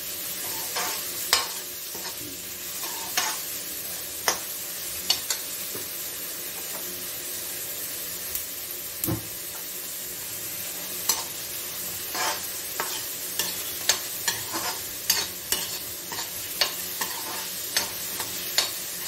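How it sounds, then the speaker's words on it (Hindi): Chopped onions with a pinch of salt fry steadily in a pan for a red amaranth (lal bhaji) dish, a continuous close sizzle broken by repeated scraping clicks of a spoon stirring them. "थोड़ा सा नमक, जिससे हमारे प्याज जल्दी ब्राउन हो जाए।"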